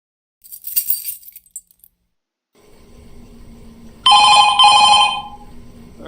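A telephone rings in the horror video game Five Nights at Freddy's 2 Reimagined, a loud bright double burst of ringing arriving after a brief chime and low ambient hum, with no talk over it.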